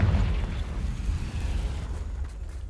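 A deep booming explosion from the Confringo spell in a video game, loud at the start and rolling off into a sustained low rumble that slowly fades, with no voices.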